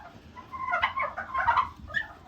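A turkey hen sitting on a clutch of eggs gives a few close, short gobbling calls in quick bursts, fairly loud against a quiet background.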